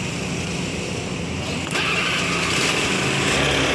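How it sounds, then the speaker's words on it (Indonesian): A Honda Vario 110 scooter engine is started partway through, cutting in abruptly from a steady background hum and then settling into a close, even idle. "Pertama sekali mesin motor kita hidupkan dulu."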